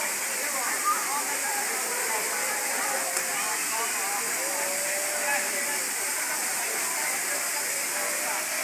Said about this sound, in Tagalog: Yan guys, Balabag Falls.